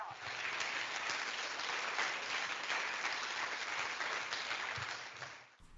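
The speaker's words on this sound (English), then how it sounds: "Great, this is your round of applause." Steady audience applause after a lightning talk at a convention, a continuous even wash of many hands clapping for several seconds before cutting off abruptly.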